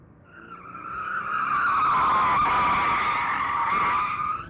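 A Scion FR-S on all-season tires drifts slowly in first gear, its tires squealing loudly and continuously for several seconds as they break loose, with no talking.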